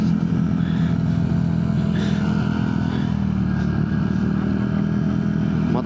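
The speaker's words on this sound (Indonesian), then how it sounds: "Motor, awas motor." A motorcycle passes on a road, its mid-pitched engine droning steadily and fairly loud throughout, with clattering road noise around it.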